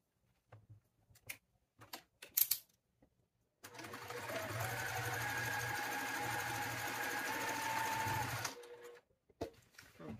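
A sewing machine runs steadily for about five seconds as it stitches a straight seam along the selvage of right-sides-together fabric, loud and continuous, framed by brief handling clicks and rustles before and after.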